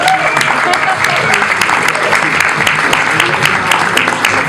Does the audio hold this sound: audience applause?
yes